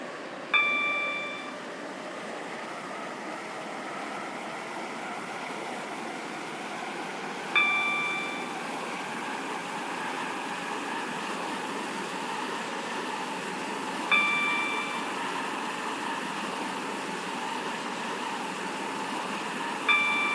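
A train in the Roblox game Stepford County Railway runs with a steady rumble, and a chime sounds at regular intervals of about seven seconds.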